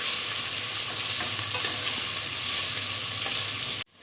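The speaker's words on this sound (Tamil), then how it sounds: "இது வந்து நல்லா ப்ரௌன் ஆகிற வரைக்கும் நம்ம வந்து ஃப்ரை பண்ணிக்கலாம்." Steady, dense sizzling of onions frying in a pan for mushroom biryani, continuous and close, with faint stirring scrapes, cutting off abruptly at the end.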